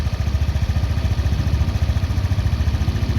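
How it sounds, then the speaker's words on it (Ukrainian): A Honda Dio 110 scooter engine idles steadily up close, its rapid, even putter pulsing loud and continuous with no voices. "Послухайте, як працює двигун."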